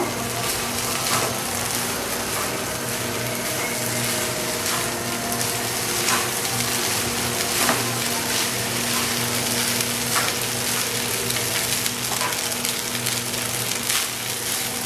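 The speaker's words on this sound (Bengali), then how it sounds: "রাইসটাকে খুব সুন্দরভাবে এবার সব কিছুর সঙ্গে মিশিয়ে নেব।" Cooked rice mixed with other ingredients is stir-fried in a pan, a dense continuous sizzle with repeated scraping and clattering of the spatula throughout, close and steady, no voices.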